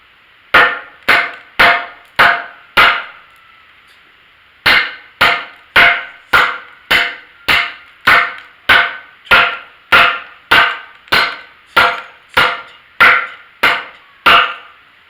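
A kukri with quarter-inch-thick stock chops into wood in loud, sharp, evenly spaced strikes: four quick blows, a brief pause, then a long, steady run of about seventeen more close, crisp impacts.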